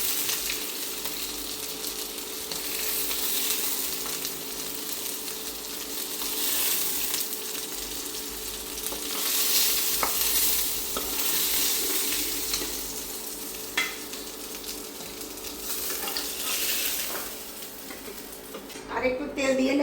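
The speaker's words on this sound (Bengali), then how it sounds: "এখন এই পাশটা আবার একটু লালচা করে ভেজে নেব।" Pomfret sea fish frying in oil in a pan, a close, steady sizzle that swells and fades with occasional utensil taps toward the end.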